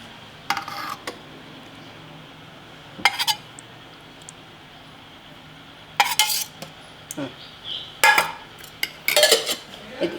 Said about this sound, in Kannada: ಅದಕ್ಕೆ ಫಸ್ಟ್ ಮೊಸರು ಹಾಕೊಳ್ಳೋಣ